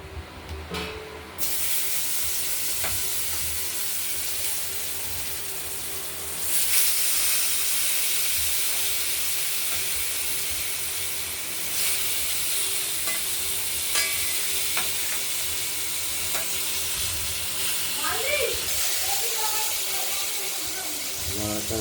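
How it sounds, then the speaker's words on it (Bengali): Steady sizzling and crackling of potatoes frying in a pan, with occasional stirring clatter and a faint voice now and then. "আলুটা ভেজে নেব"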